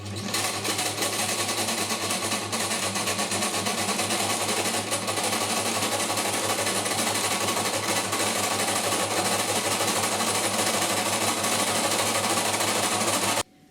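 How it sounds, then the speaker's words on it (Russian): A sewing machine runs steadily for about thirteen seconds, laying a minimum-width stitch down the center of fabric pieces for Chanel-style fringe, a close, continuous mechanical whir that cuts off abruptly at the end. "Теперь необходимо стачать детали вдоль по центру."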